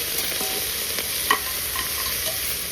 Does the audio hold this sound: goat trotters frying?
yes